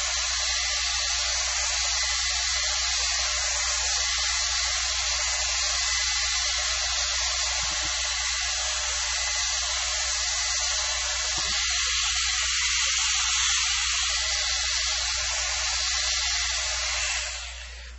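A hair dryer runs steadily and close for the whole stretch, a loud continuous blowing hiss with a low hum, drying a watercolor painting of clouds before cutting off near the end.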